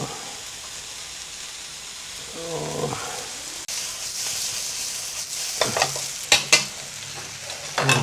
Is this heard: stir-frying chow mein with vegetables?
yes